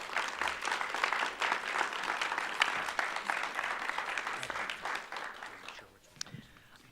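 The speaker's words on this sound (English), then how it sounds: "please give them a well round of applause." Audience applause fills a school board meeting room, a dense, even clatter of many hands that runs for about six seconds before fading out quickly into near-quiet.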